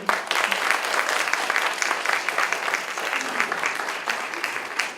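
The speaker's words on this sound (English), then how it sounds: "let's give a big round of hand to the Malaysian students" A crowd applauds steadily for Malaysian students after their show at a KAIST event, dense even clapping sustained throughout at a fairly loud level.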